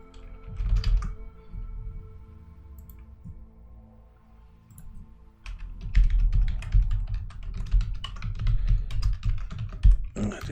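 Password typed on a computer keyboard at sign-in, two runs of rapid close key clicks separated by a quieter pause, the second burst longer and denser.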